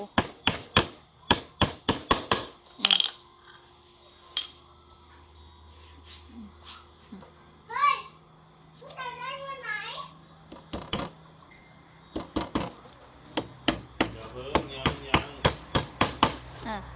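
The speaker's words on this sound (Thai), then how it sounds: "ตอกตะปูนะคะเราก็จะทำการตอกตะปู" Sharp hammer strikes drive nails into wood while assembling a multipurpose shelf, coming in quick bursts, with a pause where a child and an adult speak, then steady hammering resumes.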